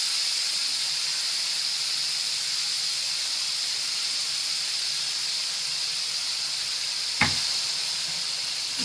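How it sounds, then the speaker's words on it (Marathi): A masala of ground tomato, garlic and coriander sautés in oil with a steady, close sizzling hiss, broken once near the end by a single sharp knock of a utensil against the pan. "चांगलं तेलामध्ये परतून घ्यायचं याचं कच्चपणा जाऊ द्यायचं"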